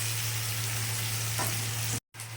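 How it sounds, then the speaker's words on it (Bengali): Steady sizzle of onions frying in hot oil until reddish-brown, a constant crackling hiss with a low hum beneath, briefly cut off near the end. "পেঁয়াজগুলোকে আমি ভালো করে লাল লাল করে"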